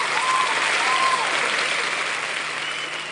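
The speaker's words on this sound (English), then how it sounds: "please, at this time, give all our speakers a warm round of applause" A conference crowd at a fintech week event in Lagos gives its speakers a warm round of applause, dense sustained clapping that fades slightly toward the end.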